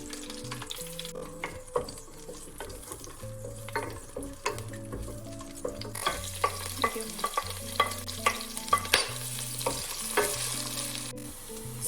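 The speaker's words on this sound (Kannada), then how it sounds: "ಆಮೇಲೆ ಅದೊಂದು ಅರ್ಧ ಭಾಗ ಫ್ರೈ ಆಗಿದೆ ಅಂತ ಅಂದಮೇಲೆ ನಾನು ಈರುಳ್ಳಿ ಹಾಕ್ಕೊತೀನಿ." Onions and green chillies frying in a pan for Donne biryani, a continuous close sizzle with repeated scraping and tapping of a spoon against the pan, the clatter growing busier partway through.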